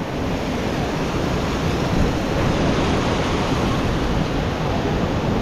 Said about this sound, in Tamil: இங்கே சும்மா தண்ணி ஓடி தான் வந்துக்கிட்டு இருக்கு.